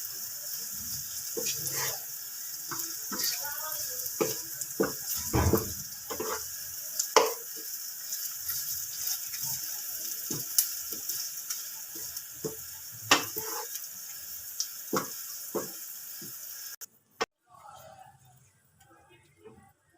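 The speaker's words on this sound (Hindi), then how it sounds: "अब हम इसमें ऐड करेंगे 2 टेबलस्पून अदरक लहसुन का पेस्ट, और इसको अगेन अच्छे से मिक्स कर लेते हैं।" Onion frying in oil with two tablespoons of ginger garlic paste, stirred and mixed in a pan for chicken korma, giving a steady sizzle broken by repeated scraping strokes, with someone talking over it before a brief pause near the end.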